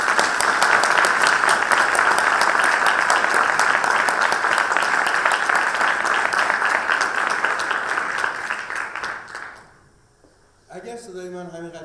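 A hall audience at a memorial commemoration claps warmly and steadily for several seconds, tapering off; a voice then begins speaking after a brief pause.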